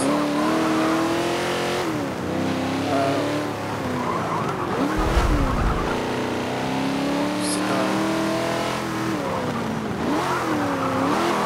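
A muscle car built into a drift car revs its engine loudly and continuously, the engine note rising and falling with tire squeal and skidding mixed in, while a person talks over it.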